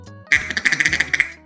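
A J-Brand plastic duck call is blown in a quick string of about a dozen short, loud, nasal quacks, close and clear, with no talking.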